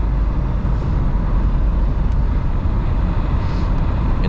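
A 1979 Ford Thunderbird's engine hums steadily at quarter throttle while driving, with a constant low road and engine drone and no talk.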